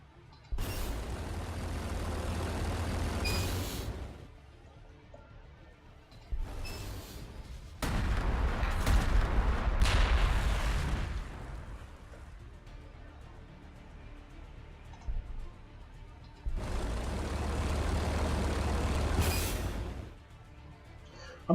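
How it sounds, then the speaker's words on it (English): Artillery fire in the Warhammer 40,000: Gladius - Relics of War strategy game, with several bursts of booming, rumbling shots separated by quieter gaps, moderately loud. "we'll bring up the artillery to finish him off here"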